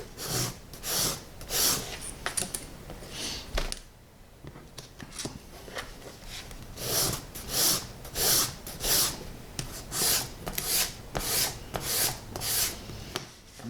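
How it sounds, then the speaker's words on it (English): An emery board rasps back and forth across a surface to roughen it before gluing, close and steady, in rhythmic short strokes with a brief pause midway, then quicker strokes resuming. "Now I'm just using an emery board here."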